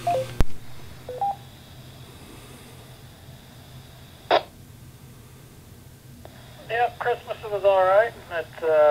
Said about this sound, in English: It's got some kind of signaling turned on there at your end of your transmission